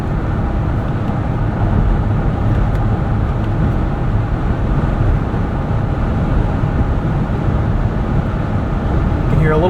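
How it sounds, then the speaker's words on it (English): Steady broadband road roar of wind and tire noise inside a 2024 Jeep Gladiator Mojave X at higher speed, loud and continuous with no breaks. "You can hear a little bit more wind and tire noise here at a higher speed."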